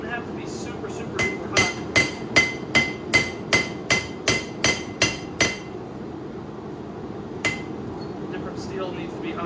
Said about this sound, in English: Steel needs to be hotter than others when you're forging it. But it's not real hard blows by the hammer.